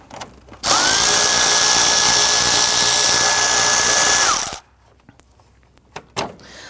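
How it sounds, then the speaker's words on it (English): A power tool whirs steadily for about four seconds, loud and close, loosening a radiator bolt on a 2010-2019 Ford Taurus, then cuts off, leaving faint clinks and handling noises. "Let's go ahead and loosen and remove this."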